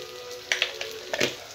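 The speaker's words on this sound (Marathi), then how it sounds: "आता तेलावर मसाला परतून झालेला आहे।" Spices and turmeric sizzle in hot oil for a Marathi mixed vegetable bhaji, a soft, close crackle with a few brief louder pops and stirring scrapes over a quiet hiss, heard without talking.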